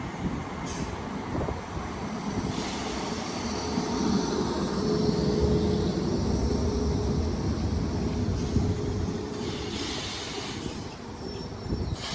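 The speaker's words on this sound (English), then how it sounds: "Train now arriving is a 319 going to Crewe." A Class 319 electric train bound for Crewe pulls into Roby station, its broad rumble and hiss swelling steadily and holding fairly close for several seconds before easing slightly, with no one speaking.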